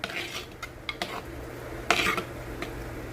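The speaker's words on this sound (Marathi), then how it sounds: "त्यासाठी तुम्ही भात आणि दही टाकून चवीनुसार मीठ टाकूया थोडं आणि व्यवस्थित मिक्स करून घेऊया" A spoon scrapes and clinks against a bowl while cooked rice is mixed with curd and salt, giving a few sharp metallic taps and a longer scrape over a quiet kitchen background.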